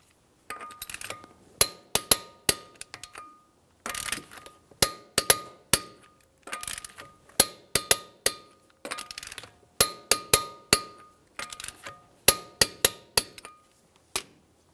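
Torque wrench clicking repeatedly as lug nuts on a 2006-2012 Ford Fusion front wheel are tightened to spec in a crisscross pattern, sharp metallic clicks in quick bursts of two to four, close and clear with no talk.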